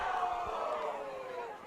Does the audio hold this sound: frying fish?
no